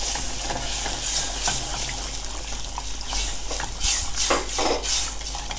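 Sea bass dish sautéing in a pan with steady sizzling, stirring scrapes and occasional clinks, plus a splash as fish stock is gradually added, close and continuous without speech.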